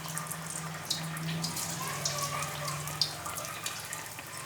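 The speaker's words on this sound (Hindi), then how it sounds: "मैं शैलो फ्राई कर रही हूँ, आप डीप फ्राई भी इसे कर सकते हैं इन्हें।" Bread potato nuggets shallow frying in hot ghee give a steady, fine sizzle and crackle with scattered brief pops, continuous at moderate level throughout.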